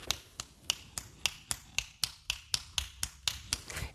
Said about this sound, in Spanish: cuando hacemos chasquido, yo por ejemplo lo hago con estos 2 dedos a la vez